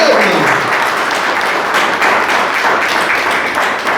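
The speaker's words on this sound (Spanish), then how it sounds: "¿Cuánto le dan un aplauso al Señor?" Congregation applauding during a church sermon, a dense, steady wash of clapping filling the room throughout without a break.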